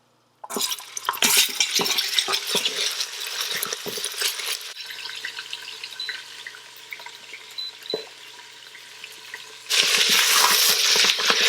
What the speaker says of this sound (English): You can see the meat sauteing well in the oil.